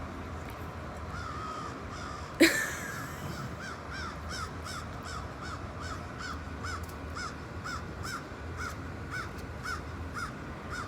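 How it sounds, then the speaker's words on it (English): A crow caws over and over in a steady rhythm, with one sharp louder burst near the start and then a long run of evenly spaced calls against constant outdoor background noise. "that crow is going nuts"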